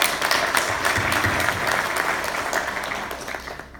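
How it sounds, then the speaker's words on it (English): Audience applause at a formal function honouring a dignitary, a steady wash of many hands clapping that holds loud through the moment and then gradually tapers off toward the end. "Please give a round of applause for His Excellency."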